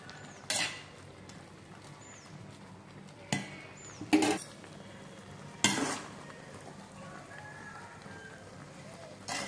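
Soft sizzling of Maggi vegetable noodles in a pan with a few sharp scraping stirs of a utensil at irregular intervals, close by and fairly quiet.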